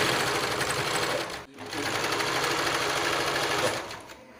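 A sewing machine runs steadily while stitching a strap onto a cloth carry bag, loud and close, pausing briefly once before continuing and then winding down.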